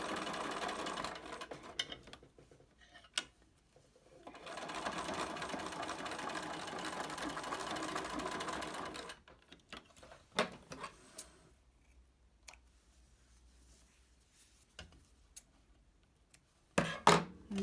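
A sewing machine runs in short bursts and then one long steady run while top-stitching the flaps of a homemade cloth face mask flat, followed by quieter clicks and handling noises.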